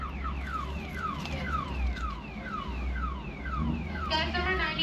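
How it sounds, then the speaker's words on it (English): Car alarm outside an In-N-Out Burger cycles through rapid repeating electronic sweeps at medium distance, over low restaurant and traffic rumble, with a brief higher warbling phase near the end. "Somebody's playing with their alarm system."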